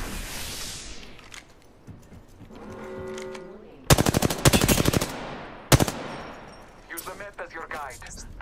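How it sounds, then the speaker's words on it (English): Gunfire in the video game Apex Legends: after a quiet stretch with a short tonal game cue, loud rapid bursts of automatic fire crack out up close, followed by a single short burst and then a softer clattering burst. "Shot fired at me."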